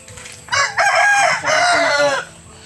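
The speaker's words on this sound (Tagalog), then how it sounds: "Daming manok dito, Jay" A rooster crows loudly and close by, one long drawn-out call, with soft clucking from chickens around it.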